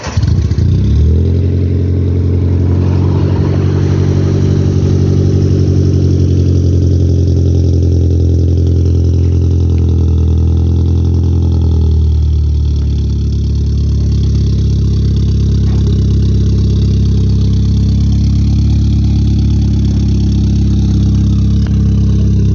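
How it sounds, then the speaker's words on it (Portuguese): An Opel Vectra GSi with a turbocharged C20XE engine and aftermarket exhaust idles loudly up close, a deep, steady exhaust rumble that swells briefly early on, then settles into an even drone. "Agora acompanhar um pouquinho do ronco do escape aqui pra vocês"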